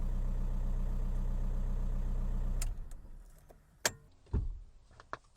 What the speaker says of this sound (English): Turn the ignition on, start it up.